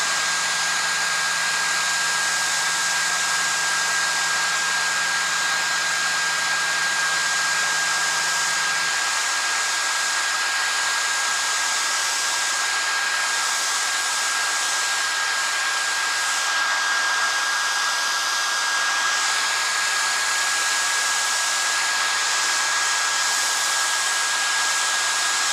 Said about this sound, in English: I'm going to use a hairdryer here to get this done.